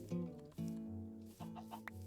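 Chickens in the video game Minecraft clucking in short, separate bursts, several brief calls close by with small gaps between them.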